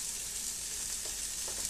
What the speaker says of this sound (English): I hope y'all can hear me over my cooking.